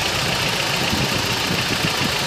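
A car engine idles at about 1000 RPM, producing a steady, continuous close rumble with a faint mechanical knock and no talking.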